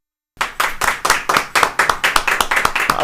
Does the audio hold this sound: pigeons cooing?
no